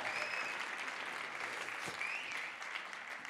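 An audience applauds the director of a youth theatre show at a school stage event, a steady dense clapping that fills the whole stretch and tapers slightly toward the end.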